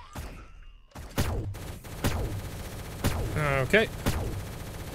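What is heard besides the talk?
gunfire in the video game Shell Shockers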